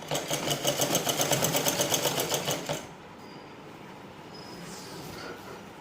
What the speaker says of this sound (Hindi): अब मैं इसको चारों को पकड़ के एक साथ सिलाई करूँगी।